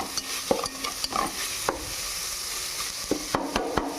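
Curry-leaf rice tipped into hot oil in a pan and stirred, a steady close sizzle broken by sharp scraping clicks of a spoon against the metal.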